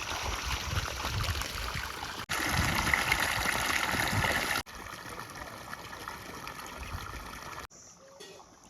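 Steady rushing irrigation water flowing and trickling into a farm field close by, shifting in level through several segments, with no voices.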